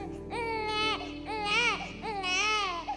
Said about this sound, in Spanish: De repente se escucha un llanto de bebé.